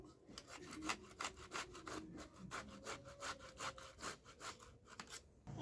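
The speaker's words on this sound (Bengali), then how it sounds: "আমি আমটাকে ঘষে নিয়েছি" Peeled raw green mango rubbed against a grater, giving a rapid series of rhythmic scraping strokes, close and fairly quiet, with no voices.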